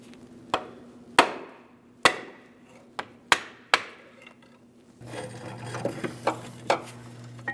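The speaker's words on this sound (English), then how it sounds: "Now I'm using a long pry bar to gently pry this axle out of place." A long pry bar levers a CV axle out of place on a 2005-2010 Chrysler 300 5.7L, giving a series of sharp metallic knocks and clunks at irregular intervals, close and loud, followed by a rougher scraping stretch near the end.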